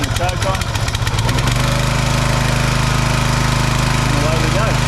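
A SupaSwift 25 ton log splitter's petrol engine is pull-started, sputtering briefly before catching and settling into a loud, steady running drone close by.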